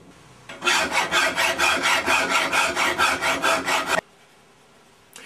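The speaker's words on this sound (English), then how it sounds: "And so I'm just finishing the edges." Rapid rhythmic filing strokes rasp along the edges of a wooden Morse key base, about a dozen even back-and-forth passes close up, then stopping abruptly into quiet.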